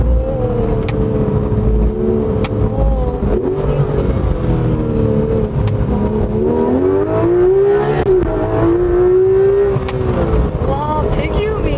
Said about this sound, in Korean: 와, 배기음이 진짜 미쳤다.